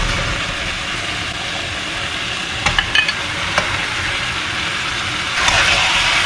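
Marinated Australian goat meat dropped into a hot pan with a little hot water, giving a steady close sizzle and frying hiss with a few stirring clinks and a brief surge of spitting near the end.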